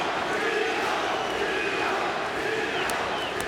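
Steady roar of an arena crowd at a Bellator MMA fight in San Jose, a dense continuous din that stays even throughout, with a voice audible through it.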